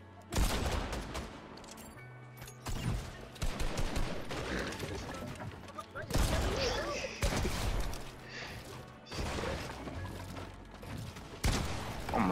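Fortnite gunfire crackles in repeated rapid bursts and single shots, some near and loud, spread across the whole stretch, while a player talks over the shooting.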